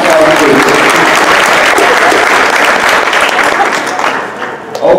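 An audience at a girls' soccer awards banquet bursts into loud, dense applause that holds steady for several seconds, with cheering voices mixed in, then begins to thin out near the end.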